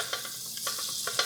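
Butter and a little olive oil sizzling in a pan, a brief close hiss with a few small pops and crackles.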